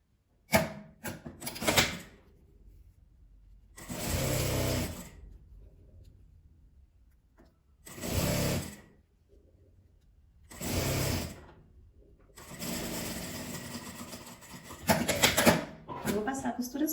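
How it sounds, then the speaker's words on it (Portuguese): A sewing machine runs in several short bursts of a few seconds each while stitching closed the strap of a mini bag, a Barbie-style keychain coin purse, with quiet handling noises in the pauses between runs. "Agora é só dobrar e passar uma costura fechando a alça."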